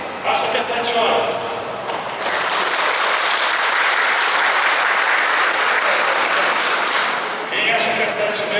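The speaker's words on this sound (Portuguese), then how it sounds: "Batam palmas, tá?" A lecture audience claps loudly and steadily for several seconds, dense applause with voices mixed in near the start and the end.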